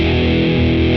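A loud, sustained distorted bass guitar tone through a Boss BE-5B effects unit, the limiter boosting into the distortion, thick and buzzing with steady overdriven sustain, playing alone.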